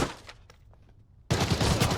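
Gunfire in the shooter game Arena Breakout Infinite: a few scattered shots early on, then from about midway a loud, sustained burst of rapid fire that runs to the end.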